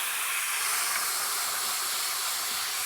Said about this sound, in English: Lots of sizzle in the kitchen here.